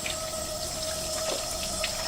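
Tap water runs steadily into a basin while preparing to bathe a dog, a continuous close hiss with a faint pump-like hum underneath and no speech.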